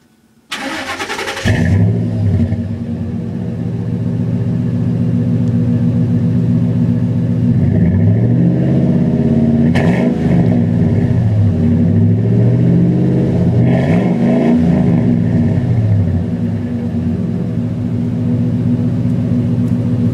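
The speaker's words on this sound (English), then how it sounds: "I'm gonna put the camera on the back so you can hear the startup" A 1999 Ford F-150 pickup truck engine cranks and fires up, then settles into a loud, steady idle rumble with exhaust burble and a few slight swells in revs, recorded close from the rear bumper.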